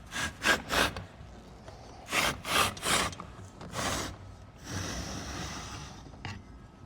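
A hand grooving tool is drawn through fiberglass duct board, producing rhythmic scraping and rasping strokes in quick pairs and triplets, followed by a longer, softer drag, close up with no talking.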